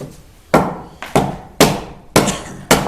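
Five sharp mallet strikes land on a chisel during woodworking finish work, spaced roughly half a second apart, each a crisp close impact with a short ringing decay, heard alone without voices.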